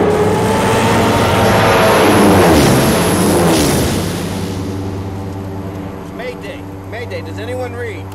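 An airplane engine roars loudly in flight during a crash-landing action movie scene, a heavy sustained drone that fades a little, with shouted voices over it.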